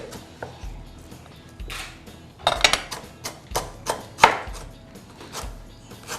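Knife chopping red Thai chilies finely on a cutting board, a string of crisp, close, rhythmic board taps at an uneven pace with small clusters, no voices.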